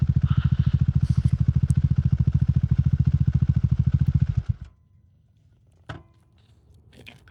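A Triumph Scrambler 400 XC motorcycle thrums with a rapid, even engine pulse for about four seconds, then cuts away to near silence broken by a few faint clicks.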